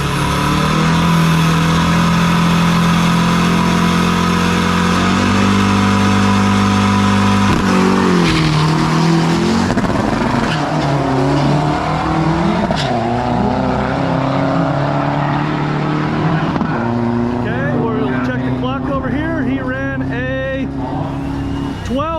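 Manual drag racing trucks launch off the line and accelerate hard down a quarter-mile strip, engines roaring loudly and continuously with rising revs, gear changes and tire squeal.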